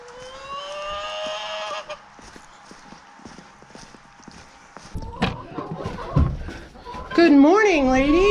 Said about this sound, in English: They can hear me, so they're squawking.